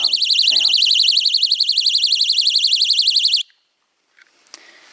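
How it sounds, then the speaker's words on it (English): A tripwire camp alarm buzzer blares a loud, shrill, rapidly warbling tone for over three seconds, then cuts off abruptly into near silence broken by faint rustles; a brief voice is heard at the very start. "the alarm sounds."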